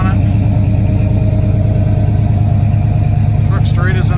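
A 1990 Chevrolet SS454 truck's V8 engine idles loudly and close, a steady, lumpy rumble with a regular throb, while someone talks over it.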